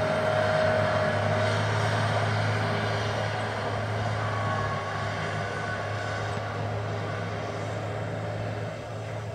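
Earthmoving scrapers work a pond site, scraping dirt off the bottom and hauling it to fill a rocky core trench in a corner; a steady, loud engine drone rumbles throughout with no talking.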